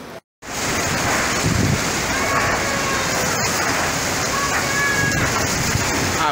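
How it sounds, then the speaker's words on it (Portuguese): Heavy rain in a storm with gusting wind and hail, a dense continuous roar of downpour and wind noise after a brief dropout at the start, with a few faint voices. "Chovendo aqui pra danar, cara. E ventando, hein?"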